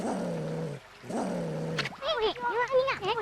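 Low, sustained growls from Ume the dog in the video game Okami, two long rumbling stretches followed by a run of whiny, wavering yelps and whimpers, fairly close and clear.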